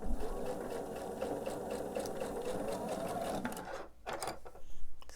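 A sewing machine stitches a quilt block with a fast, steady mechanical whir and rattle, running continuously up close before slowing and stopping near the end.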